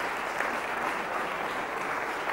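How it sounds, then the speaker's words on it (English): An audience at a Joomla community awards ceremony gives steady, moderately distant applause for an award recipient, a sustained even wash of many hands that holds throughout. "Another round of applause for Peter."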